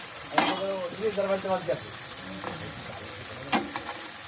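Cauliflower pieces fry in a pan with a steady broadband sizzle, broken by a few clinks and scrapes of stirring, while some brief tonal sounds pass over the hiss.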